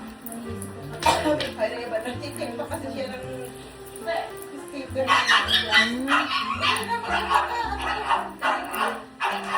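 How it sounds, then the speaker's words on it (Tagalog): Several dogs bark and yip outdoors at a moderate distance, in irregular bursts, with a person talking over them. "ang ingay ng mga aso natin sa labas."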